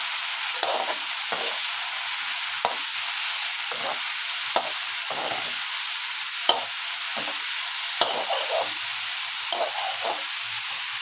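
Cauliflower and potato fry with ginger, salt, turmeric and spices in a pan, giving a steady close sizzle with soft stirring scrapes and clinks of the spoon throughout.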